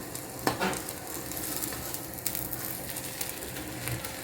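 Bell pepper pieces fry in a pan with a continuous crackling sizzle, broken by a few sharp pops and light utensil clinks near the start and middle, with no voices.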